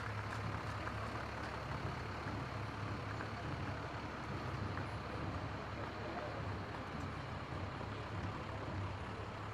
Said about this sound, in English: We have the North Bennington Fire Department vehicles.